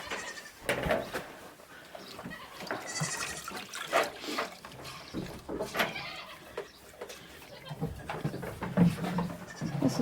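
Goats bleat repeatedly during hand milking on a small farm, several short nearby bleats scattered over a quiet background with faint liquid sounds of milk.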